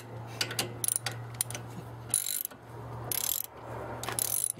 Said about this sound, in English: You can use an Allen wrench or hex drive.